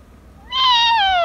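A single drawn-out vocal cry rises then slides downward, a person imitating a goat's bleat, sounding much like a cat's meow.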